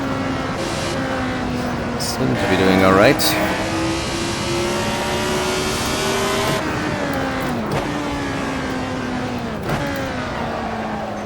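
A Lotus 72D race car in a racing video game snarls at high revs, rising and dropping through upshifts and downshifts, loud and continuous, with a voice talking briefly over it.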